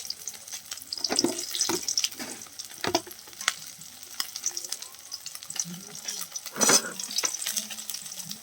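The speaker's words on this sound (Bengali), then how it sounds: "মাছটা ভাজা হয়ে গেছে বন্ধুরা" Hilsa fish frying in hot oil in a home kitchen, a steady crackling sizzle with scattered sharper spits and pops and occasional stirring or clattering, with no voices.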